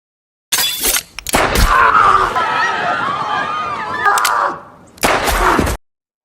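A sharp, loud gunshot cracks, then a burst of clamor and shouting follows before another abrupt sharp blast near the end.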